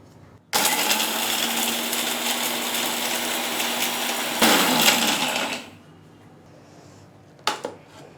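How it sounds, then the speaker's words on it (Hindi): A kitchen mixer grinder whirs loudly, grinding roasted biryani masala spices into a coarse powder, running steadily and then surging in a second burst before cutting off, followed by a brief clatter of the jar. "बाद में इसका मिक्सर में डालकर पाउडर बना लेंगे"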